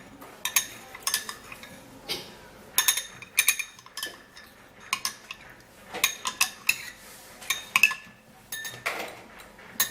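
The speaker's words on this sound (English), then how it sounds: "So you have to stir it very well so that the milk and the yogurt can actually dissolve inside very well." A spoon stirs milk and yogurt together in a bowl, giving a steady run of sharp, close clinks and scrapes against the dish, with no talking.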